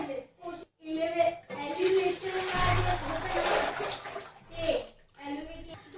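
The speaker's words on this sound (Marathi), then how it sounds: "पाणी यामध्ये ओतून घेणार आहे या पातेल्यामध्ये" Hot water splashes into an empty cooking pot while mutton curry is being made, a gushing pour of about three seconds in the middle, with voices talking briefly before and after.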